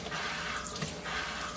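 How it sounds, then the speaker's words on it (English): Tap water runs steadily into a container for brine shrimp hatching, a continuous close splashing gush with no pauses. "I just turn on the water and pour it in there"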